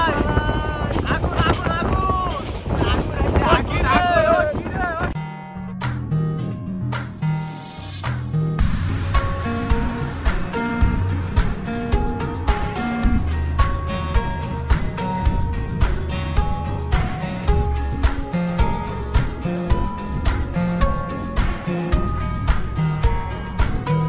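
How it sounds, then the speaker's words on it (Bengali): Strong wind buffets the microphone on the roof of a moving train, a loud continuous roar with rhythmic clattering underneath and a voice talking briefly at the start. "অনেক বাতাস।"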